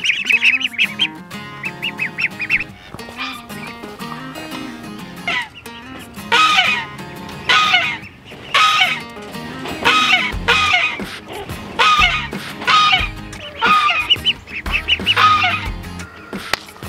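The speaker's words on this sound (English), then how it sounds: "I have some ducks, some ducklings right here that we're gonna move" Ducks and ducklings calling close by, repeated loud quacks and honks in uneven bursts over a background of high, thin peeping.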